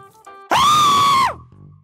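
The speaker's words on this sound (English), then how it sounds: "Someone screams." One person screaming as loud as possible for a loudness record attempt, a single sustained shrill scream of under a second, very close and loud. It is cut off abruptly, with brief speech before and after it.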